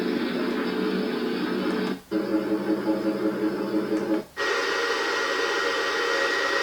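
Steady broadband whirring rumble of a tumble dryer played back by a small sleep sound device, continuous and even, with two brief dropouts where the loop restarts.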